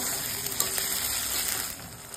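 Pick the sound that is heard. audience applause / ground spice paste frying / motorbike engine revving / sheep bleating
ground spice paste frying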